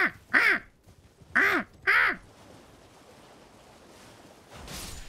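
A voice imitates a crow, giving three loud, harsh caws in an uneven rhythm, close to the microphone, followed by quiet room noise.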